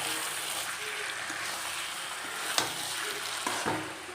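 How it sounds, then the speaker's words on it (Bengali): Potatoes sizzle steadily as they are sautéed in a pan with mutton, a continuous bright frying hiss with a few sharp clicks of a stirring utensil against the pan. "তো এবার আলুটা দিয়ে বেশ খানিকক্ষণ কষানো হবে।"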